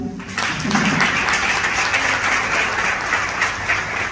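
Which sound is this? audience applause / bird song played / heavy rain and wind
audience applause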